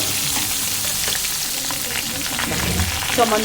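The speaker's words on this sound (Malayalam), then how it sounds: "ഇട്ട് നന്നായിട്ട് കടുക് വറുക്കാനായിട്ട് മൂപ്പിക്കുക" Shallots and mustard seeds, with fenugreek and cumin, fry in hot oil for an onion sambar. A steady, close sizzle crackles throughout, and a few sharper pops burst out near the end.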